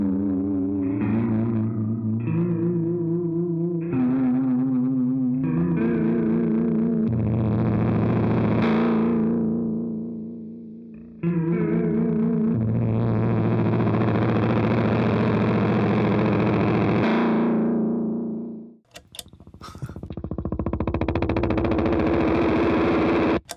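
A guitar delay pedal cranked to its most extreme setting, with long repeating guitar notes smearing into thick, distorted, warbling texture that swells and stacks without running away into self-oscillation, loud and continuous throughout.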